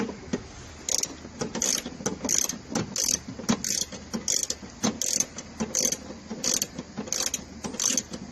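Ratchet clicking on an extension while installing a spark plug in the number 6 cylinder of a Nissan Frontier VG33E engine, with repeated bursts of close, crisp pawl clicks in an uneven rhythm, heard alone.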